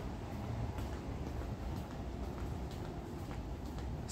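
A red line metro train running at night, a steady continuous low rumble of wheels and carriage noise close by, with no voices.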